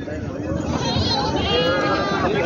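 Goats at the Bolda goat market in Kalamnuri taluka, Hingoli district, bleating up close amid crowd chatter and a nearby voice, several overlapping wavering calls filling the short stretch.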